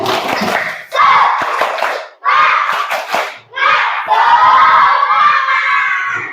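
Indonesian primary school class in a classroom shouting a rhythmic spirit clapping chant together, loud bursts of children's voices and claps in several phrases with short gaps between them.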